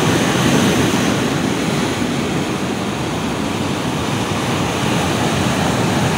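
Sea waves roar continuously close by at the shore in Ternate, a loud broad wash of surf with wind rumble, no voices.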